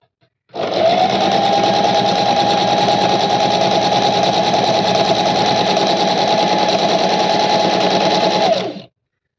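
A foot-pedal sewing machine runs without pause for about eight seconds, stitching a narrow hem on a saree with a loud, even, whirring drone that starts and stops sharply.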